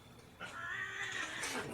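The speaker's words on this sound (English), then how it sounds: "cats are fighting, like always" Cats fighting somewhere in the background, a drawn-out yowling whine that swells and wavers for over a second, fairly faint and distant with no talk over it.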